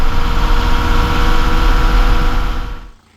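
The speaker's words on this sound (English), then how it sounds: "Without the engine cover on, it's deafeningly loud in the cab" A hot diesel engine with its engine cover removed runs loudly in a vehicle cab, a dense, steady low rumble and roar that holds level and then drops away abruptly near the end.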